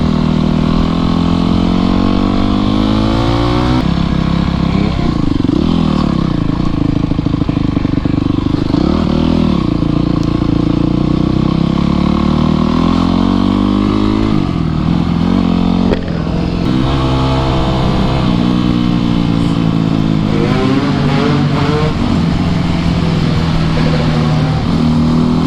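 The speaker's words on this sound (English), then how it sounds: "We're out here riding streets on dirt bikes, having some fun." Several dirt bikes ride through city streets, their engines loud and close throughout, revving and shifting with rising and falling pitch, with another bike's engine occasionally cutting in over the steady roar.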